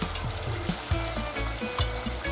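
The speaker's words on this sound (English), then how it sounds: "now I'm gonna add my onions" Onions frying in a pan for Jamaican escovitch fish, a continuous crackling sizzle with repeated soft scraping stirs and clinks, close and fairly loud, with no talk.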